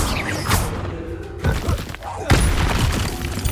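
Bombarda blasting spell going off in Hogwarts Legacy: a few loud, sharp crashing booms with breaking debris, separated by brief lulls amid game noise.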